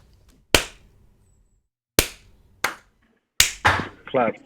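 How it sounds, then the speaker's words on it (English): A few slow, deliberate hand claps spaced well apart ring out sharply from a livestreamed debate, followed by a brief bit of voice at the end. "Can we all give a little slow clap for Rory?"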